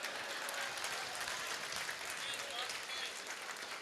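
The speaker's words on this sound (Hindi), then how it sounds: "तालियां जल्दी बजा दी आपने।" Audience applause at a Hindi poetry recital, a dense, steady wash of clapping filling the whole stretch at moderate level, with some voices mixed in.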